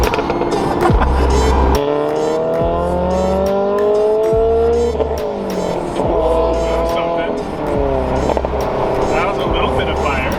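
A loud tuned car engine with a backfire tune revs up and down repeatedly, with sharp pops and cracks between the rising and falling engine notes, close by, and people talk over it.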